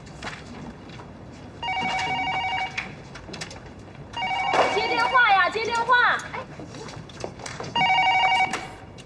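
An office telephone rings in three separate electronic bursts, fairly close and clear, with people talking in between.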